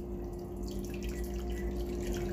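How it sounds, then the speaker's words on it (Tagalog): Hot water poured into a pan for a Filipino taisan chiffon cake, a steady close trickle and splash of liquid running throughout with a faint background hum. "At dilagyan po natin yan ng hot water."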